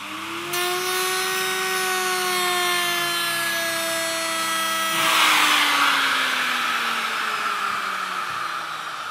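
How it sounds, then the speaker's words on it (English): A power drill with a larger bit whines at a steady pitch, then bites into wood with a rougher grinding sound as the motor slows under load, while building a custom guitar. "Let's try a bigger drill."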